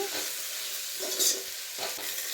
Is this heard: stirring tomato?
yes